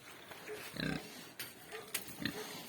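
Mangalica piglets grunting and snuffling softly while eating at feeding time on a farm, with faint scattered grunts and squeals close by at low volume.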